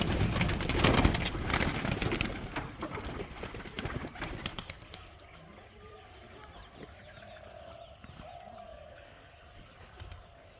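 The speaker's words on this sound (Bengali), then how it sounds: "দেখেন সবাই, কবুতরগুলো এখন বের হবে" Pigeons at a pigeon farm flutter and clatter loudly as they burst out in a rush of wingbeats, then the flock fades to a quiet, distant ambience with faint bird sounds.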